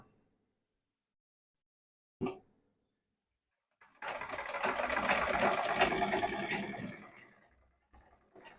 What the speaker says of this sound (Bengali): এবার আমি সেলাই দিয়ে দেখবো যে সেলাইটা ঠিক হয় কিনা